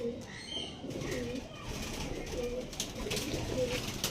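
Low cooing from a flock of tippler pigeons rolls on continuously, fairly close, with a brief rustle of movement near the start.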